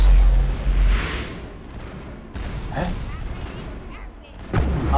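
Several sharp gunshots in the PC game Mass Effect, loud and punchy with pauses between them, over a low rumbling background.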